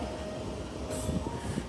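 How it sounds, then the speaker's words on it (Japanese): A wrapped-livery Sangi Railway electric train rolls in at a station, giving a low, fairly distant rumble with a brief airy hiss partway through and no voices. "さあラッピング電車がやってきましたね"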